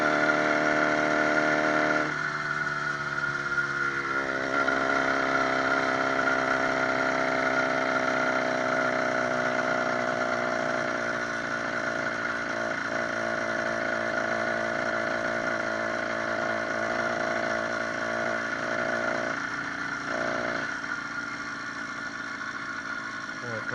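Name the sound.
66cc motorized bike engine running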